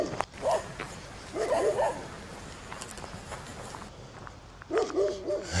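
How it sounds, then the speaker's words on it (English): A neighbor's dog barks in three separate bursts of several quick woofs each, heard at moderate distance on a quiet outdoor trail near Detroit Lake, Oregon, with soft rustling between the bursts. "The neighbor dog is barking."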